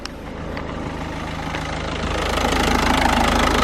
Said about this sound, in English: Listen to the engine, sounds very well.